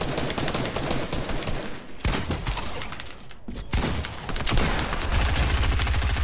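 Rapid gunfire in the video game Fortnite, dense bursts of automatic shots crackling loudly in quick succession with brief gaps between volleys.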